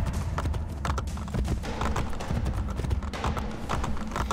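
Continuous clip-clop of horse hooves in the video game Assassin's Creed Brotherhood at a steady trotting rhythm, close and fairly loud, with no talking over it.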